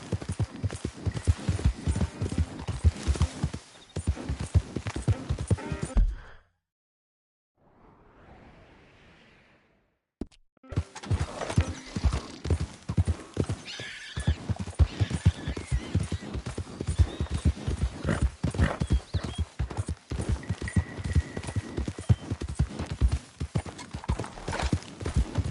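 A horse galloping in the Red Dead Redemption 2 video game, with rapid, loud hoofbeats that drop out for a few seconds of near silence and a faint whoosh, then resume steadily.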